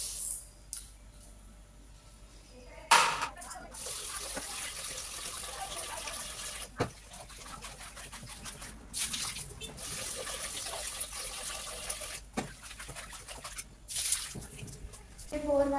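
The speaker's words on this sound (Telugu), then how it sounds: "Bore వాటర్తోనే rice కడుగుతా." Bore-well tap water runs while rice is washed by hand in a home kitchen. It is a faint, continuous trickle broken by occasional louder splashes and clatters.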